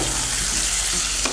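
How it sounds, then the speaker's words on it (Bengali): Vegetables fry in oil in a kadai with salt and turmeric, a dense, loud, continuous sizzle with faint stirring and no voices. "এই দেখুন সমস্ত সবজিগুলোকে লাল করে ভেজে নিয়েছি"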